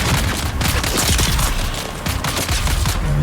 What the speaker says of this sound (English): firing guns at innocent visitors is the appropriate thing to do